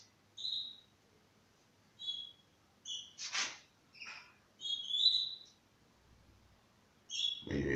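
Young canaries chirp in short, clear, high tweets and trills, scattered one after another with brief quiet gaps, close by in an otherwise quiet room.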